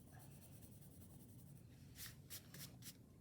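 An eraser rubs across drawing paper in a few quick, faint back-and-forth strokes, soft scratchy bursts over a low background hum.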